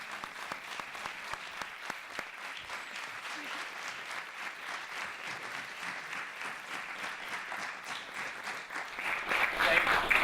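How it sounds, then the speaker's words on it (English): An audience applauds after a panel discussion with filmmakers, a dense and steady wall of clapping that lasts the whole stretch and swells louder near the end. "I want to give these guys a real big round of applause."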